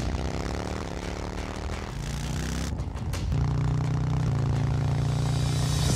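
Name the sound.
Harley-Davidson Low Rider S motorcycle engine approaching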